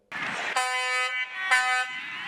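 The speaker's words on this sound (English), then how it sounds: "honk the horn of a semi" A semi truck's air horn blasts twice, loud and close, each long honk a rich brassy tone, with rumbling engine noise before and between the blasts.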